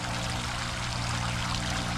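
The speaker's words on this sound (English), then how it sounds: "you can see and hear the water there. Sounds very nice." Water flows steadily at a veterans memorial in a park, a continuous even rush that is fairly loud and constant for the whole stretch, with no talk over it.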